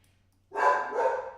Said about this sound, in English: now the dog is upset